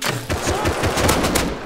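Gunfire in the survival video game Rust: a rapid, loud burst of repeated shots in close succession, dense and continuous over the whole clip with no talk.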